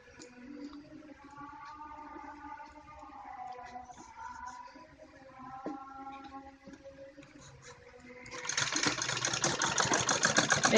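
A sewing machine stitches fabric strips along one edge for a paan-shaped front neck pattern. A soft voice comes first, then the machine starts near the end with a loud, steady, close whirring run.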